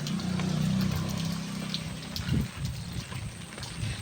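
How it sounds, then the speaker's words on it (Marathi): Steady rain hisses and splashes with running water, a low hum underneath and a brief thump midway. "एवढा पाऊस पडतो"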